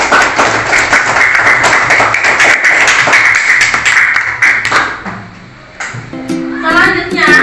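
Classroom of children clapping together, a loud, crisp run of hand claps that fades after about five seconds, followed by a short musical chime.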